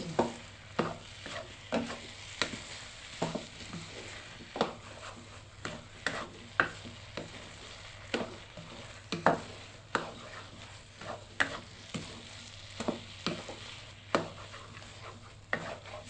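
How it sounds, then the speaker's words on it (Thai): Preserved radish being stir-fried with ground peanuts, heard as a steady series of close, crisp spatula scrapes and taps against the pan, repeating irregularly about every half second over a low background hum, with no voices. "จากนั้นใส่ถั่วลิสงบดลงไปค่ะ แล้วก็ผัดให้เข้ากันดี"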